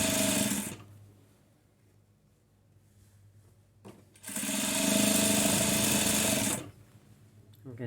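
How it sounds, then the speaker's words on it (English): A sewing machine stitches binding down onto the back of a quilt in two loud, steady whirring runs, separated by a quieter pause, and starting up again at the very end, close by and without talk. "take the binding, roll it to the back, and start stitching it down"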